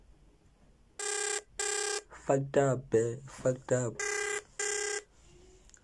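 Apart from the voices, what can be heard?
phone ringtone ringing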